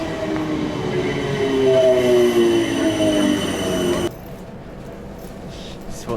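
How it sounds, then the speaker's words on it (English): A London train rumbles past close by with squealing wheels and rail noise, then the sound drops abruptly to a quieter background hum. "This is what our trains look like."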